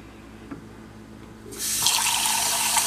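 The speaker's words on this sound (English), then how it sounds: "We have water at the stove to fill up your pots." A pot filler faucet mounted over a home kitchen stove is turned on halfway through, and a steady, loud rush of running water follows after a quiet room.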